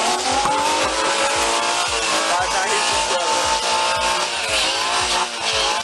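A fleeing suspect's car guns its engine during a police chase after being blocked in beside a camper, tires squealing and scraping in a loud, continuous, close-up roar with rhythmic thumping underneath.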